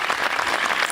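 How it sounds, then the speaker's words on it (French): Audience applause for Indian musicians at the opening night of the Fes Festival of Sufi Culture, a dense, steady wash of clapping from a sizable crowd, continuous and fairly loud for the whole moment. "je vous demande de les applaudir"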